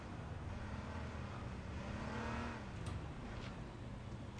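In the video game H1Z1, a car engine hums and whirs while driving, rising briefly in pitch as the vehicle accelerates, heard fairly faint with no talk.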